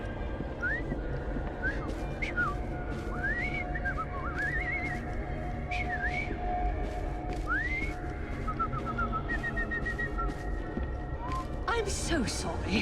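Short, bright whistled notes from a character in Assassin's Creed Syndicate slide up and down in playful little phrases over a steady background hum, with a brief voice near the end.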